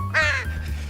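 A mother bird caws once near her nest after a cleaning robot has destroyed it: a single harsh, fairly loud call, close by, over a low steady background hum.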